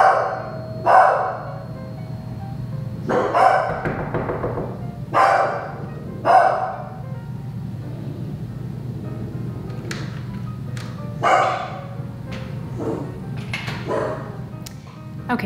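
A dog barks in short bursts, a few sharp woofs spaced out over several seconds against a quiet indoor background.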